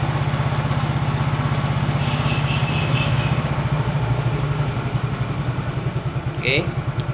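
A fuel-injected motorcycle engine idles steadily with an even, low putter throughout, while a person speaks briefly over it near the start.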